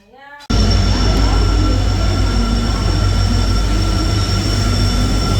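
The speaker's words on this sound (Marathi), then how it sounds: "उत्तर एक्सप्रेसचं आता आगमन झालेलं आहे" The 11003 Tutari Express rumbles into a station suddenly and loudly, then a steady, close roar of rolling wheels with high metallic squealing tones holds throughout.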